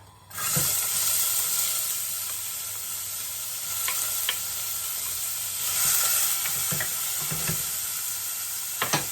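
Half a red pepper and two small onions frying in a pan, a bright steady sizzle that swells as they go in, with occasional clicks and scrapes of stirring, close up and with no talking.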